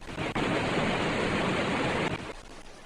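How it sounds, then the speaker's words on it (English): Running water from a stream setting in Fly Fishing Simulator HD, a steady broad rushing wash that fills the clip, briefly dipping near the start and thinning toward the end, with no voices. "we'll hear the water sounds change from the gurgle of a small stream"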